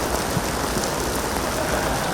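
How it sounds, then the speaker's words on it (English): A heavy passing rain shower pours down at a cricket ground, a dense, even hiss of rainfall on surfaces that stays loud and constant throughout. "The rain starts to really come down heavy today, but it should just be a passing shower"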